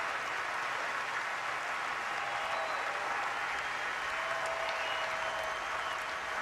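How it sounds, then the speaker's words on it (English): Stadium fans in crimson and cream and in burnt orange and white applaud steadily as an injured player is carted off at the 2012 Texas–Oklahoma game, a broad, distant wash of clapping that holds evenly throughout. "you'll hear a big round of applause as soon as that cart starts moving"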